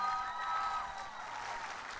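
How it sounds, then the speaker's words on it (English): Audience at a high school band concert applauds the Color Guard, a brief, fairly faint wash of clapping heard from a distance with a few whistles. "let's give another huge round of applause to our Color Guard program."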